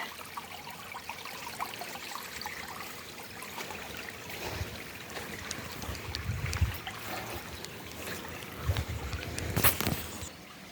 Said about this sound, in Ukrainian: І така от річечка.